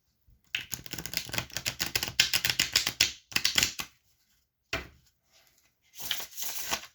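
Close rapid riffling of playing cards in several bursts with short pauses between, as a deck is shuffled repeatedly.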